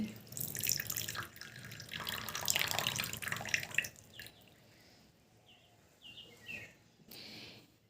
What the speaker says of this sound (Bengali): একটা বাটি নিয়ে নিয়েছি, এবার বাটির ভিতরে আমি জলটা কিন্তু ঢেলে নিচ্ছি।